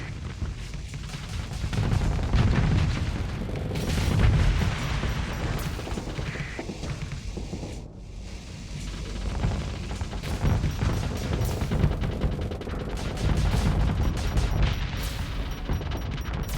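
Spaceship weapons firing in the Starsector video game, a dense, continuous stream of rapid shots and blasts under a loud rumbling battle roar that runs throughout.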